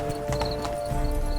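Horse hooves clip-clop in steady rhythm through a stretch of The Witcher 3: Blood and Wine, close and clear over a bed of game music and ambience, with a brief whinny-like sound mixed in.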